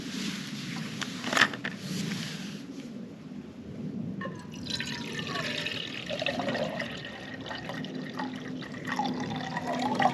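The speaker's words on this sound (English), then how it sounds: "I've got my water boiling." Water bubbling and simmering in a pot on a camp stove outdoors, with a soft continuous rush and scattered pops and trickles, fairly close.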